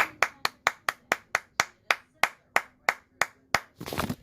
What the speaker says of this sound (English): A special applause to each and every one of you.